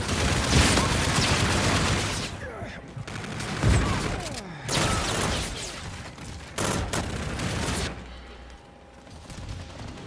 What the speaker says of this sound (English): I'm shooting right through people